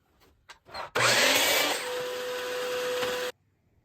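Power tool cutting a wood offcut for a birdhouse: after a few short taps, a loud, steady whining buzz that starts abruptly and cuts off just as sharply, heard close up with no voices.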